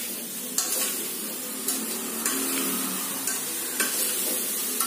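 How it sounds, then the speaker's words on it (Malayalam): Carrot halva with sugar being stirred in a pan, a steady close sizzle and scraping stir with regular spoon knocks about once a second, no talking. "ഈ പഞ്ചസാര ഇട്ട് നന്നായി ഒന്ന് ഇളക്കി"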